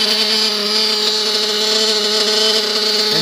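A modded O.S. VZB .21 nitro model engine runs hard on an RPM tank. A steady, loud, high-pitched whine holds almost constant throughout, with no separate blips distinguishable and no voices.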